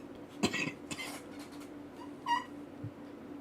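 A woman's cough during a conversation: a couple of short, fairly close coughs followed by a smaller throat sound, with no talking over them.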